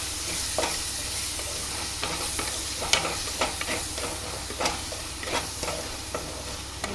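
Garam masala and all-in-one meat masala are stirred into prawns in a hot frying pan for a prawn roast. A steady sizzle runs throughout, with a spoon scraping and clinking against the pan in irregular strokes close by.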